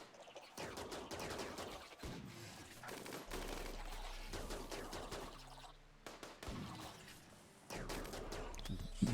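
Legendary charge rifle bursts in RimWorld, rapid sci-fi gunfire volleys in repeated bursts with brief gaps, loud and close, with game effects layered throughout.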